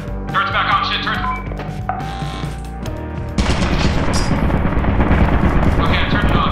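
Automated turret in Lethal Company firing in a sustained, loud burst of rapid gunfire that starts partway through and continues to the end, with game noise before it.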